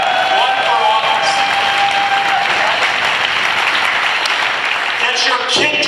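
Loud, sustained audience applause fills the air at an outdoor unity and justice rally in Acton, a dense wash of clapping with scattered cheers that runs steadily for the whole stretch.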